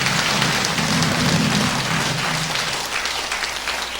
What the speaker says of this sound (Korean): 잠깐 일어나시면 큰 박수 한번 해주시기 바랍니다.